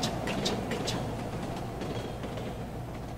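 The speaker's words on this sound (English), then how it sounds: "Hey, that sounded just like a train." Train sound in the VR video game Carly and the Reaperman, a steady low rumble with rhythmic clicks early on, continuous and fairly loud.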